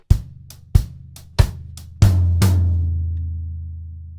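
A drum kit plays a half-time bar of floor tom eighth notes with a sharp cross-stick backbeat, the strokes crisp and close, ending on a deep tom hit that rings and slowly decays, no voices.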